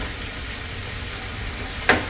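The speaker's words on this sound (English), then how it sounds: "While my onions are sauteing, my ham is on the pan." Onions sauteing and ham frying in a pan for a Puerto Rican sandwich give a steady, close sizzle and crackle, with a brief louder clink near the end.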